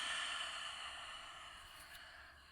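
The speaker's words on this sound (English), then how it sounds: "And exhale." A slow, soft exhale during a breathing exercise in a quiet ASMR reiki session, a faint, steady airy hiss close to the microphone that gradually fades over a couple of seconds.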